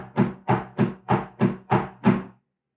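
Seven evenly spaced drum strokes ring out in a steady sixteenth-note pattern of a 17-stroke roll, each hit sharp and loud with a short decaying tail, played alone.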